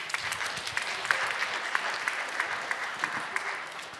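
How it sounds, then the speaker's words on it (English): An audience applauds the jury at a startup competition semi-final, steady mid-level clapping with scattered louder claps running throughout, no voices over it. "may I have your applause for our jury?"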